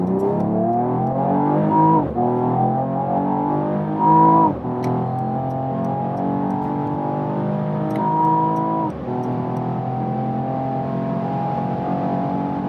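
A 2019 Mercedes-AMG E53 estate accelerates hard on a motorway, the engine note climbing through several gears with brief dips at each shift, loud and close from inside the car, no talking.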